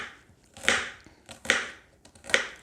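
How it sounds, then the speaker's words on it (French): Three crisp knife chops on a cutting board cutting garlic, spaced at a slow, even rhythm, close and fairly quiet. "vous coupez votre ail"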